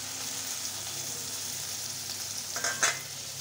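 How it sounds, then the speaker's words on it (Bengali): Chopped tomato frying in a pan while being stirred, a steady close sizzle with a few louder scraping stirs near the end. "টমেটো দিয়ে একটু নেড়ে নেব"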